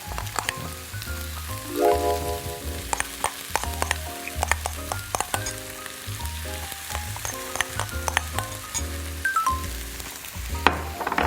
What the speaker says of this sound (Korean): 한번 같이 볶아보도록 하겠습니다.